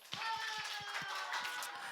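A children's Sunday school congregation at a Full Gospel church claps in applause, a run of sharp, steady hand claps close by, with a faint voice briefly heard over them.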